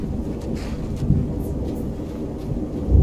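Rolling thunder in Skyrim with the Scandinavian Seasons Extended mod, a steady low rumble with soft crackles and a heavier boom near the end, heard alone without talk.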